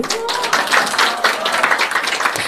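Seminar audience applauding at a Korean network marketing business event, a dense, steady wash of many hands clapping close and loud throughout, with no speech over it.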